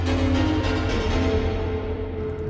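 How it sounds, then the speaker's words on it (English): A Spire synthesizer preset from the Future House Sound Bank plays a dense, sustained tone with a heavy bass layer and bright upper harmonics, loud and continuous with no voices, and the top end gradually darkens as if a filter closes. "the sound we're going to be using is from Future House Sound Bank Spire"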